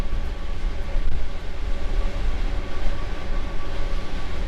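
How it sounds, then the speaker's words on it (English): Flixtrain carriages rattle and rumble at high speed, a dense, continuous low roar with jittery clatter heard from inside the train, loud and close with no voices. "we absolutely raced out of Berlin, at a rate which made the carriages really noisy"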